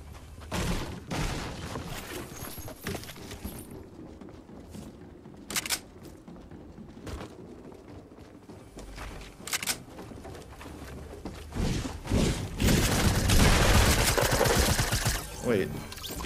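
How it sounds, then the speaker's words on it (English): Heavy assault rifle fire in the Fortnite video game rings out as scattered bursts of sharp cracks, some distant and some closer, with a denser, louder stretch of firing near the end. "I almost ran straight into that heavy AR fire"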